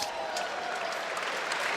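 Dense arena applause for table tennis players at a quarter-final match, steady even clapping filling the space at close range, with a voice talking faintly underneath.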